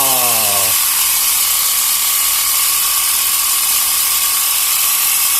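A portable air pump running during a repair test, a loud, steady mechanical buzz and rattle close by, with a brief descending whine as it starts.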